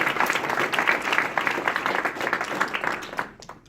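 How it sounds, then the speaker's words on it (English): A crowd at an Air Force basic training graduation ceremony claps steadily for honor recipients, a dense, even wash of applause that thins out and fades in the final moments. "Please give our EHR recipients a round of applause."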